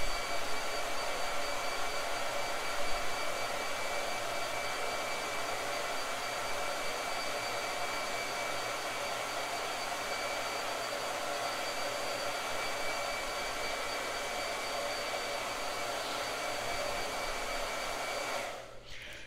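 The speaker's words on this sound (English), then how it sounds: "Blow dryer." A blow dryer runs continuously for nearly twenty seconds with a steady, moderately quiet airy whoosh and whine, then is switched off at the end as the sound winds down.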